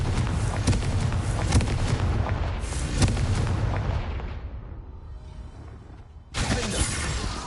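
Bombarda explosion spell cast in Hogwarts Legacy: a loud, dense blast with crashing debris that fades over several seconds, then a second burst of noise near the end.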